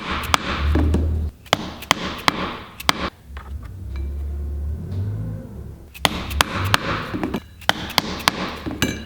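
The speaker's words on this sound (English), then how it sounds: "We'll go back over to the anvil and get this punched out." A hammer strikes a punch through a leather sheath belt loop on an anvil, a series of sharp close metallic blows in irregular clusters, separated by quieter handling and thuds.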